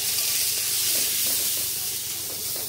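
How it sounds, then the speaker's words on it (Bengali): Chili powder and cumin powder sizzle as they fry in a pan, producing a steady, even hiss throughout at moderate volume, with no one talking. "এবার ভালো করে মশলাটাকে কষে নেবো"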